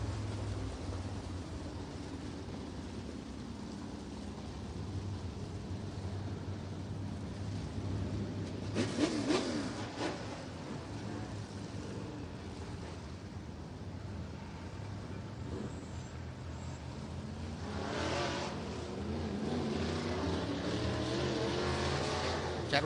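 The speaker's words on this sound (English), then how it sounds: "Chad Weber gets refired back up to attack back up the field." An IMCA SportMod race car on a track in Nipomo, California, is heard at a distance under caution, with a faint engine drone, a brief burst of revving, and wind buffeting the microphone.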